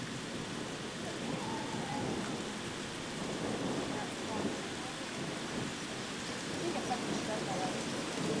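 Steady rain pours down during a thunderstorm at a state park, a dense continuous hiss with low rumbles of thunder beneath it, no voices.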